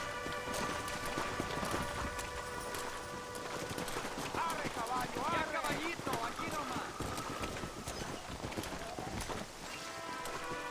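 Horse hooves clatter in a quick galloping rhythm in the Red Dead Redemption game, mixed with wagon and ambient noise, while voices speak over parts of it.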